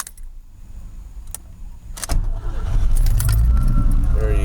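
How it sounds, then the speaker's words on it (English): Truck keys jingle and clatter against the ignition of a manual-transmission truck, followed by a louder thump and rustle as the clutch pedal is pushed to the floor, close and alone with no talk. "you're going to put them in the ignition"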